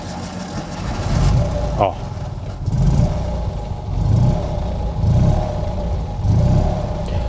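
A Fiat 126p in original condition starts and idles with the choke pulled, a coughing, uneven low throb that swells and fades in a loose rhythm, heard close, with a brief exclamation from a man over it.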